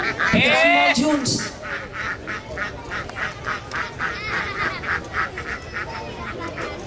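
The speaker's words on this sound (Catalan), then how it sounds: "A veure si surt amb els ànecs. Que és complicat, perquè van molt junts." A flock of ducks huddled close together at a fig fair in Alguaire, giving loud, rapid, repeated quacks and honks that follow one after another in a steady pulsing rhythm, close by, with a person talking over the start.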